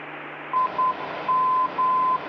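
Morse identifier tones from an ILS localizer come over aircraft radio in a Cessna on approach, a steady mid-pitched beep keyed into short and long pulses over a constant hiss of static.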